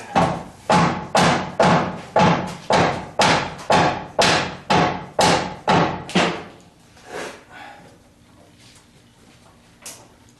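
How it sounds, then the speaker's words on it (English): A dead blow hammer pounding a 1976 Corvette body down onto its chassis, about eleven heavy evenly spaced thuds in quick rhythm, each with a short ringing decay, then a couple of softer knocks after a pause. "Give me my dead blow hammer."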